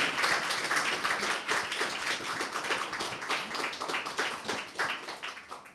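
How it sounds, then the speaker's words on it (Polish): Sustained audience applause at a book launch, dense clapping from many hands filling the room steadily for several seconds. "Jeszcze raz brawa dla niej, Sylwia Czubkowska"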